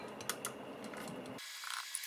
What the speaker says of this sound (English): we'll remove this tiny little screw on the bottom right here